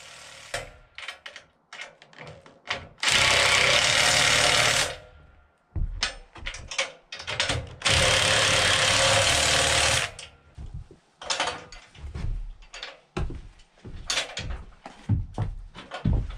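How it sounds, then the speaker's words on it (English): Impact driver tightening bolts on the side plates of a Woodland Mills HM130 Max Woodlander sawmill trailer, firing in two loud, sustained buzzing bursts of about two seconds each, with clanks and handling clatter of parts between them. "Although I'm using an impact driver here in the next few moments"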